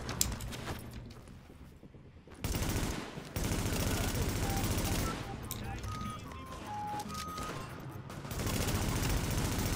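Gunfire rattles through a firefight in The Division, with bursts of automatic shots coming and going between quieter gaps, dense and fairly close, while a player talks excitedly over the action.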